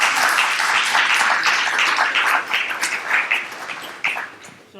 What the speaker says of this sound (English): give a round of applause for our 3 veterans here